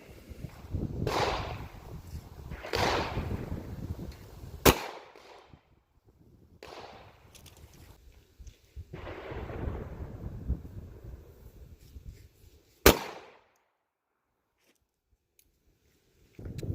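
Ammo Inc Blackline .45 ACP 230-grain hollow point rounds fired into ballistic gel outdoors: two sharp, loud single gunshots several seconds apart, each a crisp crack with fading echo, amid quieter rustling between.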